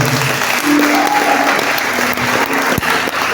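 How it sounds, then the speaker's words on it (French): Loud, continuous applause from a large church congregation, with some cheering mixed in, filling the whole stretch without pause. "Donc des acclamations au Seigneur."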